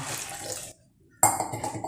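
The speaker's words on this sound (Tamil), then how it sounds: "மீதி இன்னும் ஒரு 1/2 கப் அளவுக்கு தண்ணி வச்சுருக்கேன். அதையும் இதில் விட்டு நல்லா மிக்ஸி ஜாரை கழுவிட்டு நம்ம ஆட் பண்ணிக்கலாம்" Water splashes into a mixer jar to rinse out beetroot residue for halwa: a close, gushing pour, a brief silent pause, then a second burst of sloshing water.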